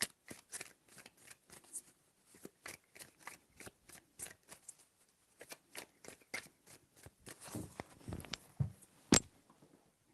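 Tarot cards are shuffled in quick riffling bursts of sharp snaps and flicks, close and fairly quiet, in several runs with short pauses between.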